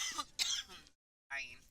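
A woman coughs twice in quick succession in a commentary booth at a women's pool tournament, close and clear, then a short silence and a further throaty sound.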